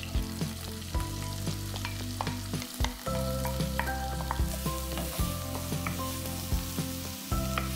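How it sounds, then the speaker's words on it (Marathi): Finely chopped onions, three medium ones, fry in hot oil in a pan with sharp sizzling and regular scraping of a spoon stirring them, close and fairly loud, in repeated strokes with no voices. "कांदा एकदम छान अगदी मस्त भाजला गेलाय"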